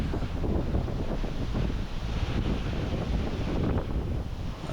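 Ocean surf at Jupiter Beach, Florida rolls in under heavy wind buffeting the microphone, a constant broad roar with no voices.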